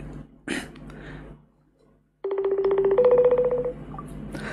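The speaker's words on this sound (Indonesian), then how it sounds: "coba aku telepon via IG ya" A phone call placed through Instagram produces a steady electronic ringing tone that pulses rhythmically and shifts pitch slightly midway, following a few soft handling noises and a short pause.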